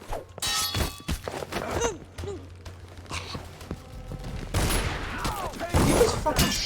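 Gunfire bursts in a stealth-action game, Dishonored 2, as sharp cracks scattered among clanging metal and game effects, close and loud, with a burst near the middle and a dense cluster toward the end.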